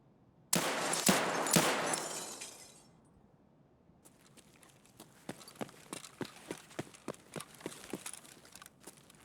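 Gunfire in Escape from Tarkov, opening with a loud close burst of a few sharp shots that ring out and decay, then a run of fainter, evenly spaced single shots.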